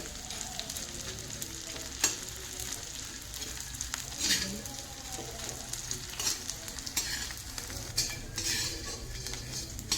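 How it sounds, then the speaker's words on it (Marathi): Edible gum (dink) frying and puffing up in hot oil for winter ladoos, a continuous bright sizzle broken by occasional clinks of a utensil against the pan, with no talking. "आपण डिंक तळून घेऊया छान असं आपला डिंक फुलू राहिला आहे"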